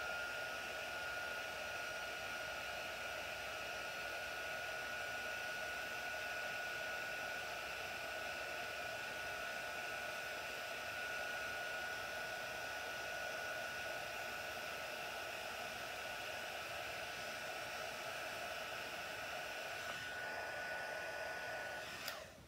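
A heat tool blows hot air in a stamping craft session, a steady, even whooshing hiss held for over twenty seconds with a faint whine, fairly quiet and uninterrupted.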